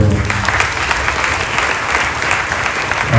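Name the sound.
applause for the parish priest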